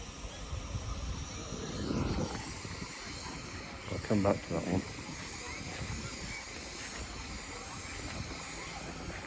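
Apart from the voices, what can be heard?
steam engine powered Land Rover hissing at steam rally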